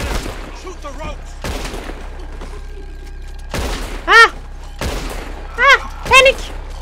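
Gunfire in Red Dead Redemption 2: sharp shots ring out across a busy scene, with several loud blasts standing out near the end and game voices shouting in between.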